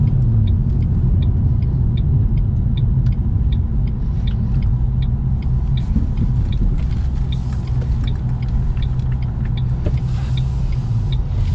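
A Ford Mustang GT500 engine drones with a steady low rumble while driving, a loud, constant cabin-heard growl with a faint rhythmic ticking over the top and no talk.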